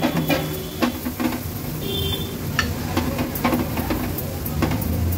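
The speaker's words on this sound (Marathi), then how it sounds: "व्यवस्थित मसाले मिक्स करून घेऊया।" Onion with turmeric and homemade Agri Koli masala sizzles in a pan, a constant frying hiss broken by irregular scraping and tapping of a spoon as the mixture is stirred, close and fairly loud, with no talk.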